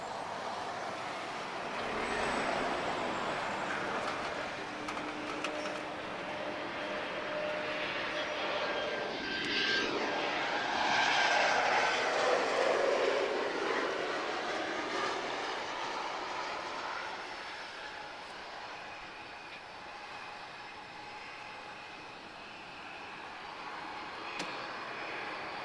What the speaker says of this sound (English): This is an Embraer 190 long range. She's arriving from Casablanca, airborne for 59 minutes.